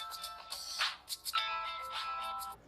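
A mobile phone ringtone rings loudly and close, a bright repeating electronic melody playing alone through the short stretch with no talk over it.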